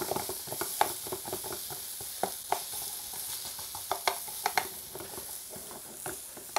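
Sausages (snags) and onions sizzling in a pan at a motorcycle bush camp: a steady close frying hiss with frequent small pops and spits, no talking.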